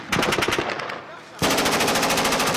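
Machine gun fire in the Syrian war crackles in rapid sustained bursts, loud and close, with a short lull before a heavier burst resumes.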